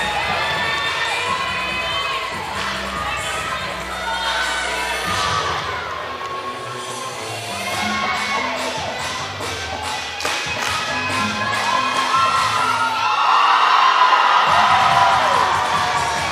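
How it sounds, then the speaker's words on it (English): Spectators at a Clemson versus North Carolina college gymnastics meet cheer and shout, with rhythmic clapping and thumps building into louder whoops toward the end. "Nice involvement from the crowd there."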